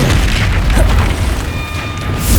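In the video game Hogwarts Legacy, the Confringo explosion spell goes off as a loud, sustained booming blast with a deep rumbling body, filling the whole moment with dense, close roar and no speech.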